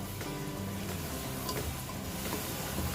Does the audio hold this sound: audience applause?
no